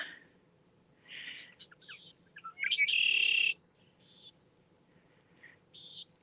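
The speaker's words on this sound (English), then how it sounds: "Finally hearing some birds." Several birds chirp and tweet at sunset in short bursts, bright calls scattered over a quiet outdoor background with a faint low hum underneath.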